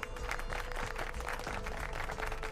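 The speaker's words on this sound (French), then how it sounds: "Applaudissez-les bien fort," Steady applause from a crowd greeting the contestants at a talent audition, loud dense clapping that runs without a break from start to finish.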